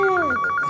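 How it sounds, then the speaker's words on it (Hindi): A telephone rings in a birthday celebration scene, a steady rapid electronic trill pulsing in short bursts, loud and close, with a brief falling vocal sound at the start. "Koki, तुम्हारे लिए फोन है।"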